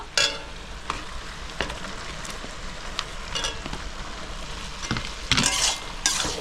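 Potatoes and cabbage being stirred in a frying pan, a soft steady sizzle broken by a handful of utensil scrapes and knocks against the pan, close and alone.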